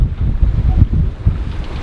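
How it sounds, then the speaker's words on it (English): A sailboat pushes into a headwind of about 17 knots and choppy waves off Lofoten in Arctic Norway. Heavy wind rumbles close against the microphone, and water sloshes and thumps rhythmically against the hull with no talking. "We had what now, about 17 knots against us or so, and quite some waves."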